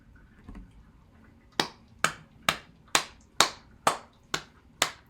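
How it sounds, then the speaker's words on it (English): Finger snaps from an audience after a poetry reading: eight crisp, close snaps in a steady, evenly spaced rhythm after a brief quiet start. "Snapping, applauding."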